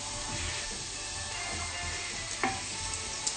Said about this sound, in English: So we have to saute for like a few seconds.